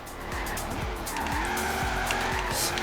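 A car drifts in the Forza Horizon racing game, its engine droning steadily while tires squeal in repeated sliding bursts.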